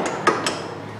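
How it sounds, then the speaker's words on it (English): A few light metallic taps ring out on the back side of a lower control arm bolt on a Chevy Malibu, two or three short clinks close by in a quiet garage. "Marie, go ahead and tap it a little bit from the back side."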